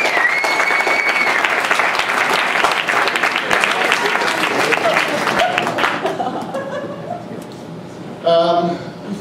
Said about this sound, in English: Well, we applaud you.